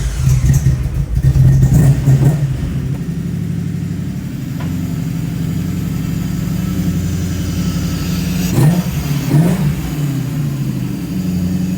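A BMW M car engine revs hard and close, with loud throttle blips near the start and again around the end over a steady, rumbling idle-like drone.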